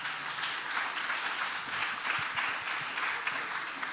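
Audience applause at a music industry conference talk, a continuous wash of many hands clapping throughout, moderately distant and even.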